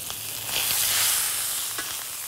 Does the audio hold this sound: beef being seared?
yes